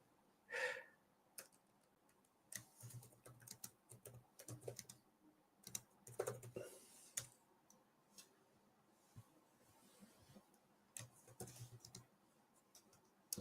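Typing on the Boox Note Air5 C keyboard cover with full-size keys, heard as irregular bursts of soft plastic key clicks that come in quick runs with short pauses, close and fairly quiet, with no voices.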